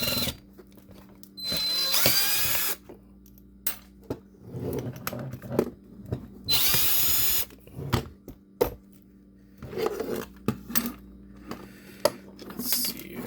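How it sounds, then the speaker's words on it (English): A new cordless drill backs screws out of an old Black & Decker 12-volt drill, in several short whirring bursts separated by quiet gaps filled with small clicks and handling noises. "I'm going to use my new drill to take apart the old drill"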